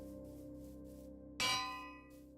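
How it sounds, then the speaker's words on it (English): A bell in the video game Minecraft is struck once, giving a sharp, bright clang that rings and fades over about a second, with soft music underneath. "Oh, you're putting the bell up there."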